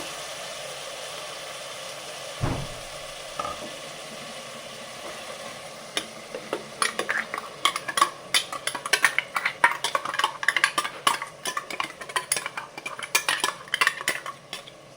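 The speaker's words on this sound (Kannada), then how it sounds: "ಹಸಿ ವಾಸನೆ ಹೋಗೋವರೆಗೂ ಹುರ್ಕೊಬೇಕು ನೋಡಿ" Ground masala paste for drumstick pulao frying in a pan, with a low sizzle under repeated metallic scrapes and clinks of a spoon stirring, growing busier and more rapid toward the end; no talk.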